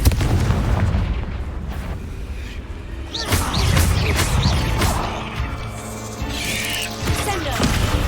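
Fire spell explosions in Hogwarts Legacy, several heavy booming blasts with crackling bursts over a loud, dense game soundscape.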